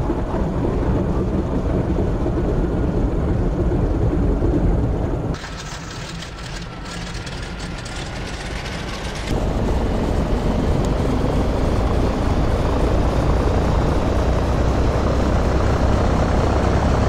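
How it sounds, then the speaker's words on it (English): A loud, steady piston engine drone from the left engine of a Douglas C-47 starting up in a flight simulator, briefly dropping to a softer tone before returning at full strength as it runs up. "You will hear the left engine sound as it fires up."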